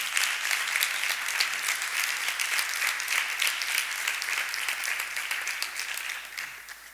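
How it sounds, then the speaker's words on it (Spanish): Sustained applause from an audience at a literary festival talk, steady and full for several seconds before tapering off slightly at the end. "Un aplauso"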